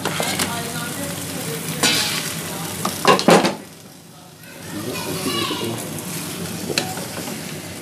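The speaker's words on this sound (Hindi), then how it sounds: "ये 2 किलो चिकन है जो मैंने इसके अंदर ऐड किया। इसको मैं भून लूँगी।" Two kilograms of chicken tossed into a hot pan for achari chicken salan, crackling and sizzling steadily while being stirred, with clattering spoon-on-pot knocks and a brief lull midway.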